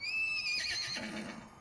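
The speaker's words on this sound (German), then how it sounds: "Ja, braves Pferdchen" A horse in the video game Borderlands 2 (Tiny Tina's Assault on Dragon Keep) gives a single loud, close whinny that rises and then trails off, with no talk over it.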